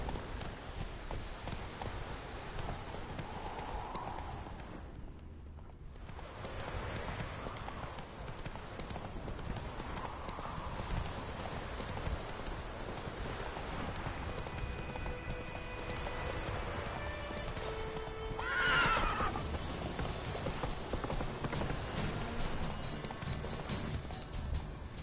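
Horse hooves clip-clop steadily through a Witcher 3 game scene, a continuous galloping rhythm over ambient outdoor sound, with a whinny rising near the end.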